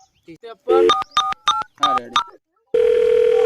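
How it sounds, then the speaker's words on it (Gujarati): A short run of electronic keypad tones beeps in quick succession, followed by a steady, loud dial tone; a few brief voice sounds come before. "આ નંબર લગાવજો"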